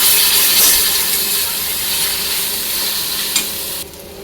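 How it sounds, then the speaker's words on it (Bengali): Spice masala with Kashmiri chili powder sautéing in a pan gives a steady, fairly loud sizzling hiss with a faint stir near the end before it cuts off abruptly. "দিয়ে দেবো কাশ্মীরি লঙ্কা এক চামচ আবারও ভালো করে একটু কষিয়ে নিতে হবে"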